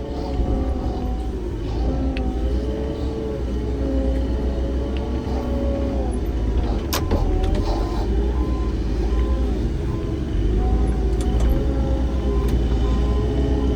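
A small snow loader with a bucket works through snow, its engine droning steadily at close range with shifting tones, a couple of sharp clanks, and someone talking over it.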